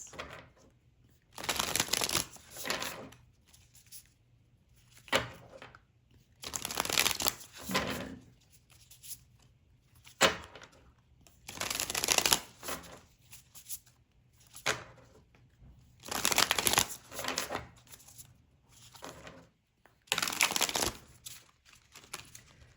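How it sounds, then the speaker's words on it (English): A deck of tarot cards is shuffled in repeated bursts of riffling and flapping, each lasting a second or two with quiet pauses between, close and soft. "it feels like this deck is well shuffled"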